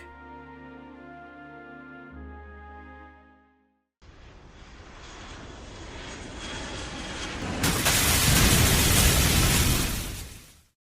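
A passenger airplane engine in flight, heading toward a city in the Kalos region, rises as a loud broadband roar after a musical passage and swells louder toward the end.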